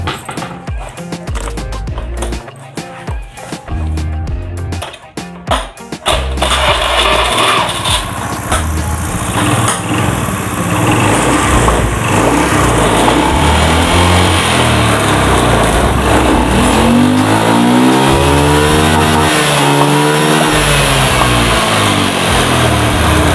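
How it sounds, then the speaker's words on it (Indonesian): A Honda Beat scooter with an oil-leak fault around the air filter is cranked over several times, catches, and settles into a steady loud idle that rises into revs close by. "Kita tes hidupkan motor ini."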